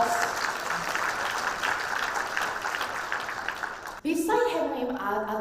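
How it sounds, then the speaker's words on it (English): Clapping from a seated audience during a product introduction fills the first four seconds with a steady, moderately loud patter, then a voice resumes speaking. "Can you clap?"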